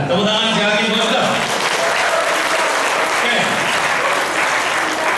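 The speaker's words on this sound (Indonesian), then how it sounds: "Tepuk tangan sekali lagi buat Anda" Loud, sustained crowd applause at an event, filling the whole stretch at full strength, with a voice briefly speaking over the clapping near the start.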